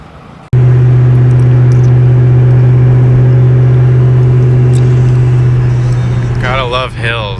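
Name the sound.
2004 Mustang Cobra engine driving with catalytic converters on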